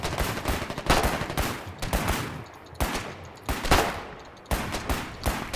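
Rapid bursts of gunfire from the war game Foxhole crack out close and loud in repeated volleys, with short gaps between the clusters of shots.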